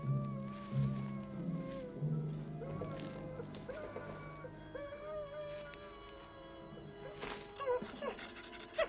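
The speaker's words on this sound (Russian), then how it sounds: "Чё это собака-то воет?" A dog howls and whimpers in long wavering tones, moderately near, with faint voices and rustling in the background.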